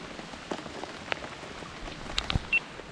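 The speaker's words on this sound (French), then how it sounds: "Là il pleut bien quand même là." Steady rain falls softly outdoors, with individual drops pattering and tapping nearby over a quiet background hiss.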